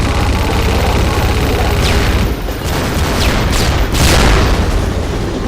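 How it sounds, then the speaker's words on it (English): A minigun fires in the video game Hunt Down The Freeman as a loud, continuous, dense roar of rapid shots that runs the whole time, with slight surges partway through. "you get your minigun. This is my weapon."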